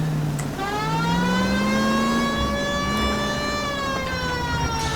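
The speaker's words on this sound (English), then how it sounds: "Yeah, police sirens." Police car sirens in the video game L.A. Noire: a loud wailing siren sweeping up and down in pitch, close and continuous over an engine revving underneath, no talk.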